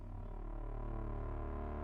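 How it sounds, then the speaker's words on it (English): The brown note, a hypothetical low tone, plays as a steady, droning low hum with a faint pulsing texture, sustained alone at low volume without any talk. "what you're hearing is the brown note"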